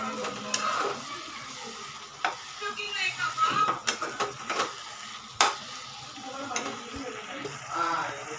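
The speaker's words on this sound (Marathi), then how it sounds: "तेल सुटेपर्यंत हलवायचे, म्हणजे शिजून जाईल पूर्ण मस्तपैकी" Biryani masala frying in oil is stirred in a pan: a soft sizzle runs under repeated spoon scrapes and sharp metal clinks, close and irregular.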